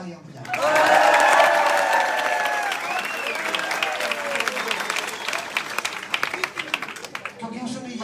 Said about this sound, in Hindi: इसके लिए तालियां बजाएं।